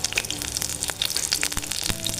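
Jackfruit-seed-stuffed Malabar spinach fritters frying in hot oil in a village-style kadai give off a steady, crackling sizzle with scattered sharp pops and bubbling spatters, close and continuous.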